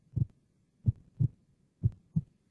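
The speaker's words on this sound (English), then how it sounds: "That's the sound of a beating heart." A beating heart heard through a stethoscope held to the middle of the chest: five soft, low, muffled thumps in a steady rhythm, close and alone with no other sound.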